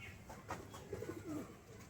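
On a rooftop loft, pigeons murmur a short, soft run of low coos, faint against a hushed outdoor background.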